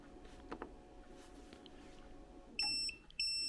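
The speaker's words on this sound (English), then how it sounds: "So it's giving you an error code, and it gives you an alarm sound" A Ferrex portable power station sounds its overload error alarm, two loud high-pitched electronic beeps in quick succession after a quiet stretch with faint handling noise.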